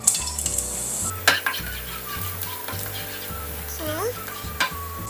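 Garlic sautéing in hot oil in a pan, a steady close sizzle with occasional clinks of a utensil against the pan and a low background hum, no talking.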